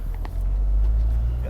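A manual-transmission Toyota GR Supra pulls away from a standstill, its engine a steady close rumble inside the cabin that holds on through the short moment with no talk over it.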